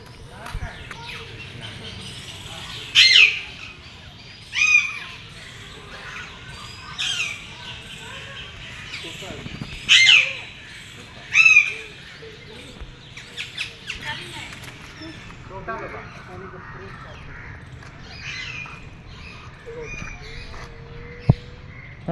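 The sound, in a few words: parrots squawking at zoo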